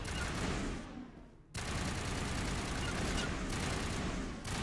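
Gunfire in the video game Mass Effect roars as dense, continuous rapid shooting, close and harsh, with one short lull before it resumes at full intensity.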